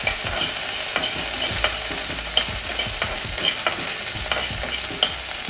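A spoonful of paste fries in a hot pan under a steady sizzling hiss, broken by regular scrapes and light taps of a spoon stirring it, close up and without any voices.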